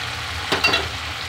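Hot water hits a hot frying pan while cooking dim er jhal, an egg curry, and sets off a single short, sharp sizzle burst that quickly fades back into a low background hiss.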